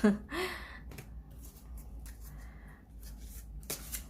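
Tarot cards are shuffled during a relationship reading, giving a brief papery riffle near the start followed by soft scattered card handling and faint rustles, with breathy sounds and low background noise.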